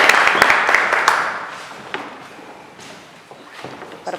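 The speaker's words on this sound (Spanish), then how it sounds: "Sí, se puede aplaudir, se puede aplaudir. Aplaudan, por favor." An audience at a literary festival panel applauds, a dense burst of clapping that fades away over a few seconds, with scattered claps and room noise after.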